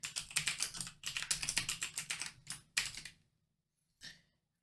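Rapid typing on a computer keyboard, close and clear, in quick bursts with short pauses, then a final isolated keystroke after a brief silence; no talking.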